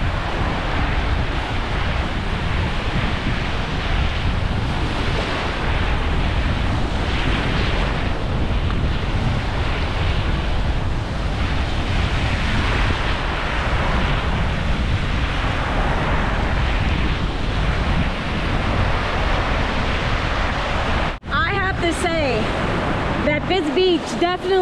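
Ocean waves at a beach with strikingly green water wash in a steady, loud rush mixed with wind buffeting the microphone, and someone talks briefly near the end.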